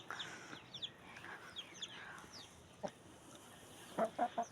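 Faint clucking from chickens, with soft scattered calls and a few louder sharp clucks near the end, in a quiet outdoor setting.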